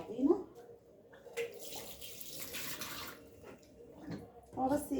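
Tap water running in bursts while a gas stove is washed at a sink, soft splashing and rushing water coming and going with a voice talking over it.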